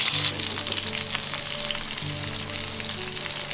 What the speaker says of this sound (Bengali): বেগুনগুলো তুলে নিলাম এরকম করে ভাজিতে হবে খুব কড়াও না আবার একবার হালকাও না